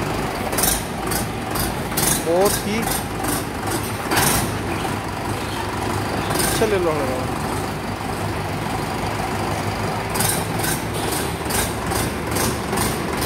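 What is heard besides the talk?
Mahindra 585 DI XP Plus tractor engine running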